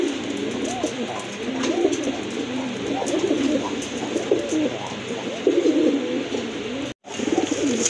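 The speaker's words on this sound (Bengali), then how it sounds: "মাশাআল্লাহ অনেক ডাকে কবুতরটা, খুবই অ্যাক্টিভ ফ্রেশ কবুতর" A pigeon offered at a pigeon sale coos repeatedly in a steady, close rhythm over a faint background hum, with a momentary dropout near the end.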